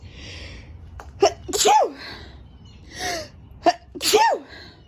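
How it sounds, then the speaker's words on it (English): Two sneezes, each with a sharp intake and explosive burst, close to the listener with quiet pauses between. "Hold on, I'm going to sneeze."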